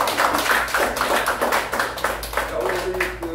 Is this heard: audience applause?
yes